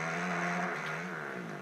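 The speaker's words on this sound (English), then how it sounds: "That is a 4-stroke motorcycle." A 4-stroke motorcycle engine from a Supercross racing game revs in a brief, steady, fairly quiet burst with a smooth harmonic whine.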